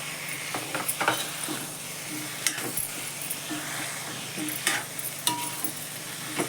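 Chakwat greens bhaji cooking in a pan, soft steady sizzle with intermittent scraping stirs and light clinks of a spoon against the pan, close and moderately quiet, no talking.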